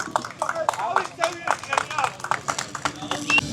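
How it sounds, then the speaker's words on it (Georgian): An audience at a gymkhana motorsport award ceremony breaks into scattered clapping, irregular hand claps close by, mixed with someone speaking over a loudspeaker. "აპლოდისმენტები."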